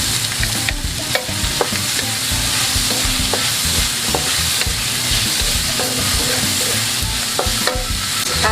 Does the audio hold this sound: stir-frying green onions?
yes